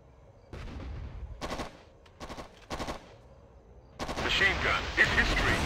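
Bursts of machine gun fire in the military shooter Operation Flashpoint, several short rattling volleys separated by brief pauses, then a heavier sustained burst mixed with louder battlefield noise.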